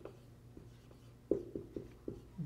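Pen writing on paper at close range, a quiet series of short scratchy strokes and taps in an uneven rhythm.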